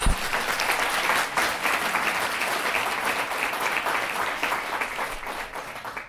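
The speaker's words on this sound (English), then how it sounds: "A big round of applause for these students." A crowd at an international high school debate final gives the students sustained, dense applause that stays loud and even for several seconds without letting up.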